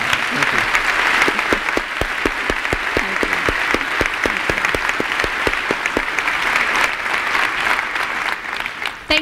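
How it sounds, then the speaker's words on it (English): Sustained audience applause after a business school speaker event, dense and fairly loud, with a brief stretch of rhythmic unison clapping partway through before it fades slightly at the end. "Could you give a round of applause for Christine"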